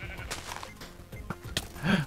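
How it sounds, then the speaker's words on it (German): A Minecraft sheep bleats in short bursts within the game, with a louder bleat near the end over faint background game sounds. "Da ist das Schaf."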